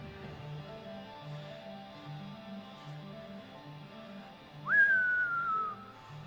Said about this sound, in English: as you whistle over there